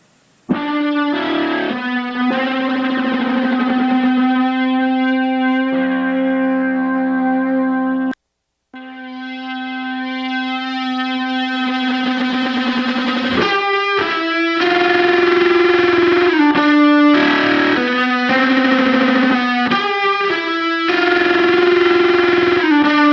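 A distorted electric guitar plays alone with heavy effects, sustained notes and chords ringing loudly, a brief pause midway, then punchier repeated notes.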